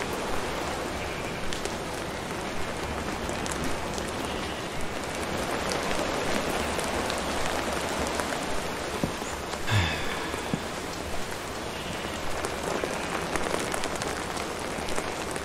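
Steady rain in a video game pours down with a constant dense hiss and patter, unbroken for the whole stretch, no voices.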